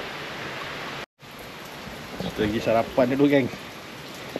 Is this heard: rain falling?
yes